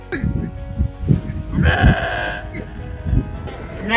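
A grazing flock of sheep bleats near and far, with overlapping cries rising over the rustle and movement of the herd.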